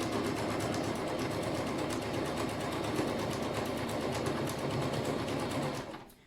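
A sewing machine that has not been used for some time stitches cloth table napkins in one continuous close mechanical whir with a rapid needle rhythm, winding down at the end.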